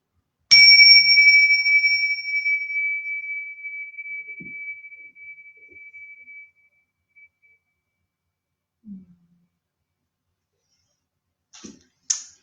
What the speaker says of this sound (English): just ringing the bell, bringing us into presence